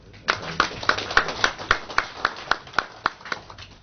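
Audience at a Nigerian public gathering about the NDDC clapping in a steady, rhythmic unison beat, about four claps per second, clear and fairly close, with faint background murmur.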